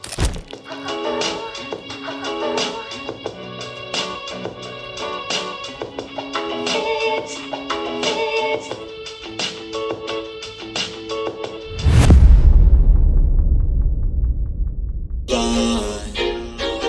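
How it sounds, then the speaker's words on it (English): Music plays through a Bormo mini Bluetooth speaker with a thin, small-speaker tone and steady rhythmic beats, then a sudden loud thump and rumble before the music resumes briefly. "Take a few seconds to listen to how this thing sounds right now."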